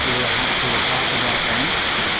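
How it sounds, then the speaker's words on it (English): Waterfall at Dog Creek rushing steadily and loudly, a dense continuous roar of water throughout with no pauses. "Right there, the waterfall"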